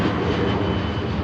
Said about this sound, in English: super early rotation from the Jet 2